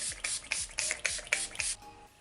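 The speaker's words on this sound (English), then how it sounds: "I'm going to put on a little setting spray and then we'll be all done." Six quick, close hissing pumps of Urban Decay All Nighter Pollution Protection setting spray misted onto a face, evenly spaced bursts followed by a short quiet tail.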